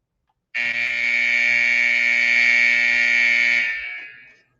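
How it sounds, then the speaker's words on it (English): A loud, sustained electronic buzzer blares for about three seconds to end a Stanley Cup Finals hockey game, then fades out in a reverberant arena. "And the buzzer goes for the end of Game 3"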